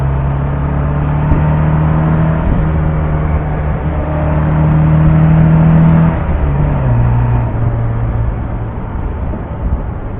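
A 1970 MGB with a near straight-through exhaust, one resonator left and a rusted-out muffler, drones steadily as it drives, a loud low engine hum with a slight rise and dip in pitch partway through.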